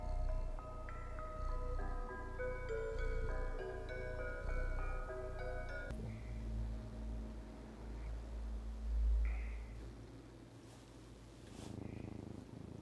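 A low, rumbling cat purr, steady and close, follows a stretch of soft tonal music in the video game Stray.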